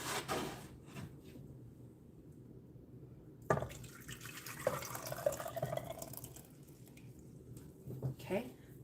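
A kitchen tap runs in a steady splashing hiss while dishes are washed up, quiet and close, with a person talking intermittently and small clinks of items being handled.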